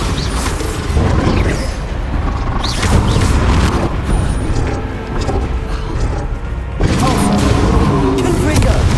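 Bombarda blasting spell explosions in the Hogwarts Legacy video game, dense booming bursts and crashing thuds rolling over about nine seconds with dense game-effects noise and occasional voice underneath.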